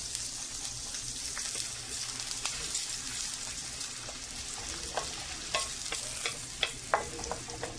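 Finely chopped large onion browning in hot oil for a white lobia curry gives a steady crackling sizzle, with sharper stirring clicks and scrapes becoming more frequent in the second half. No one speaks.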